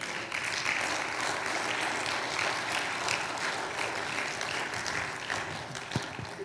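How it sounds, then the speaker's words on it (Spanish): A church congregation claps and cheers during a Spanish-language sermon, a continuous broad wash of applause lasting several seconds, with a sharp knock near the end. "Démosle un aplauso al Señor."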